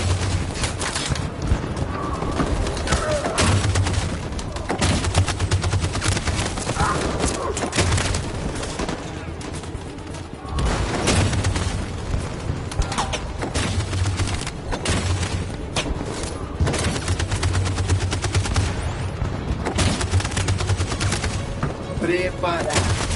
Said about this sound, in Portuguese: A metralhadora tá atirando em tudo que aparece!